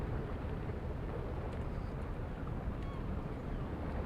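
The cruise ship Norwegian Bliss departs Ensenada in Virtual Sailor NG with its engine throttling up, a quiet, steady low rumble beneath a wind-like hiss.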